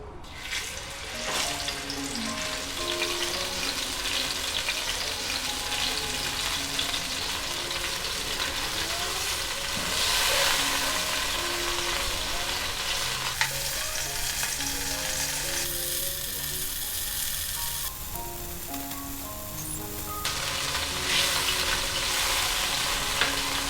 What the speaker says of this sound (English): I heated some coconut oil and a bit of ghee, and this is for frying the prawns first.